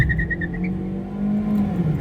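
A 2018 Ford Focus SE launching from a brake-held start, engine roaring steadily with a high whine as the wheels spin, loud and close from the cabin.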